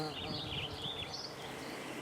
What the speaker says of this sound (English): I love bees.